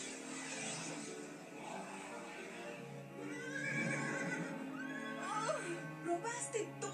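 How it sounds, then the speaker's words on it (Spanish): Cartoon flying horses neigh and whinny in a children's animated show, several bright whinnies rising over a steady music-like bed, fairly quiet, with voices speaking alongside. "¿Robaste todos estos caballos, Wendell?"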